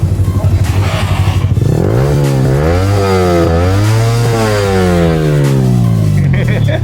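A motorcycle exhaust revs loudly close by, starting with a rapid idle putter, then rising to a snarling peak and dropping back twice before settling into a steady drone.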